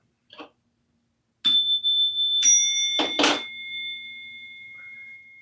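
A bell rings out several times in close succession, bright clear tones with long sustained decay, preceded by a soft tap and followed by a faint trailing ping.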